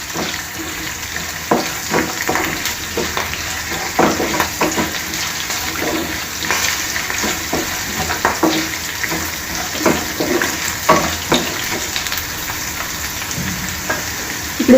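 Green chilli pieces and lentils fry in a pan of hot oil for mango rava pulihora, a steady close crackle and sizzle with scattered sharper pops running throughout, no talk.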